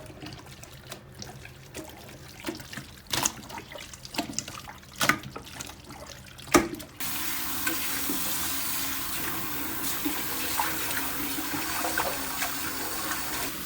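Running tap water splashes and streams steadily over pork intestines being rinsed clean, preceded by scattered wet handling clunks and splashes, then a continuous, fairly loud gush of water for the second half.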